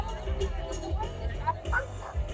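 A few dog barks and yips rise over a busy crowd murmur at a Halloween costume contest in Sevierville, Tennessee, fairly close by, with people chattering all around.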